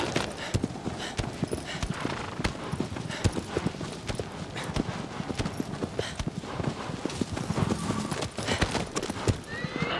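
A horse in the video game Shadow of the Colossus gallops with rapid, continuous hoof clip-clops on open ground, with a few neighs and whinnies mixed in at close range.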